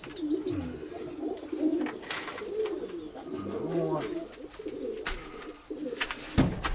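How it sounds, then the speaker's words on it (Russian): Several pigeons of rare-patterned and young breeds coo repeatedly inside a small loft, their soft rolling calls close and overlapping, with a few wing flutters and faint human voices nearby. "Тут вот пара рябогорлых. Тоже маленькие голубятка."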